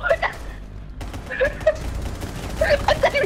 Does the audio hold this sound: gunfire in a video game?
yes